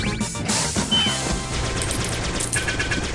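Rapid bursts of gunfire and crashing impacts from the pixel-art space-pirate game Flinthook, dense and loud throughout with overlapping game effects and no voice.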